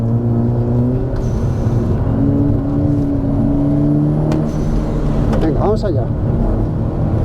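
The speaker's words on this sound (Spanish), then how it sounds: "El motor tira desde abajo" VW Golf GTI with a 360 hp engine, pulling hard on a damp track and rising in pitch as it accelerates, heard from inside the car under someone speaking Spanish.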